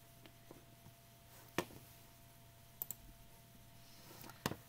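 Sharp, faint mouse clicks during image editing on a computer, a few isolated taps spaced across the stretch with two quick double clicks and one single, over a quiet steady hum, no voice.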